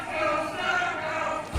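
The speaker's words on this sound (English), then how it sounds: "This crowd rallying behind GCW star Sam Stackhouse" Wrestling crowd at a MegaBrawl 2022 championship match rallying for GCW star Sam Stackhouse, a steady loud roar of many voices cheering throughout, ending with a low thump.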